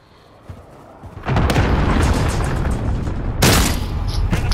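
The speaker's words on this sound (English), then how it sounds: "Enemy cruise missile." An enemy cruise missile strike in Call of Duty: Modern Warfare lands with a sudden heavy boom, followed by a long roaring rumble and a second sharp blast near the end.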